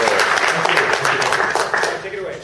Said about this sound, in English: A round of applause for this guy.